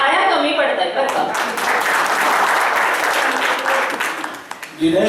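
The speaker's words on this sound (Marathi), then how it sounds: "तुमच्या टाळ्या कमी पडतात बरं का" A crowd at a school reunion gathering breaks into loud, sustained applause, many hands clapping densely for several seconds with voices mixed in, then fading out toward the end.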